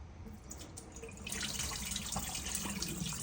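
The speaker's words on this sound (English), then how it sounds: "So I pour this water out, and I'm going to rinse it off a little bit more" Soaking water is poured off sea moss into a sink, a soft trickle that swells into a steady splashing stream after about a second, close and with no voices.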